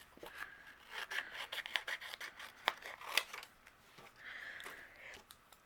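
Scissors snip and rub through black cardstock while trimming around a papercraft piece for a butterfly shaker card, giving a run of close, faint cuts and scrapes with no voices.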